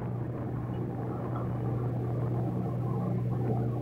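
A motorbike ride along a road near a highway, its steady engine drone and rumble held close and constant, with wind wash over it and no talking.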